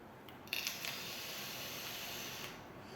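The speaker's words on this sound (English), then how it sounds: "the airflow is very smooth, there is no strange sounds on it." Airflow control on a Mechlyfe Slatra dual mesh RDA being adjusted: a few faint, close clicks near the start over a steady, soft, airy hiss, all quiet and without speech.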